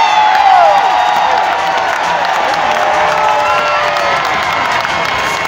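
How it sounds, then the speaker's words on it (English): A packed hockey arena crowd at an Erie Otters junior game roars and cheers loudly and continuously, a dense wall of shouting and whooping with some clapping mixed in. "Erie crowd is like, finally."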